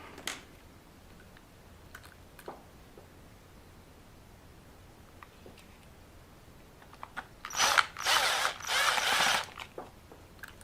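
Small screws being driven into an LC Racing L6039 RC car bumper fitted to a 124019 buggy, with faint scattered ticks early, then a louder burst of dense clicking and whirring in the last few seconds.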